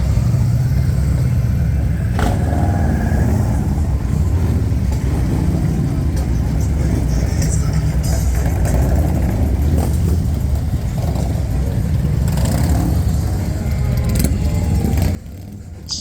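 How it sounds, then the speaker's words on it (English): Loud, continuous engine roar from motorcycles and traffic passing close by near a bridge during Bike Week, with revving swells, before the noise drops off abruptly near the end. "watching all the motorcycles go by"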